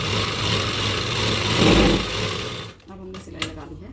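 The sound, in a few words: sewing machine stitching a salwar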